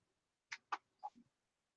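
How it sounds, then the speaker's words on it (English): A few faint, brief bird chirps come from outside an open door on a fine day, in a short cluster with quiet around them. "you hear a bird chirping because Rosie has birds outside of her door"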